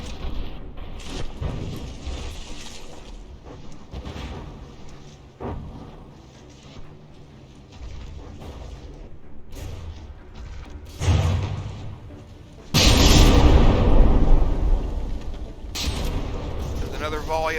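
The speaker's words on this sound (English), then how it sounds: "Another volley of cram mortars in, scoring some direct hits" Cram mortar volley slamming into a battleship in From the Depths, heard as scattered booms and mechanical clatter that build into a loud, dense burst of impacts near the end, with a voice talking over parts of it.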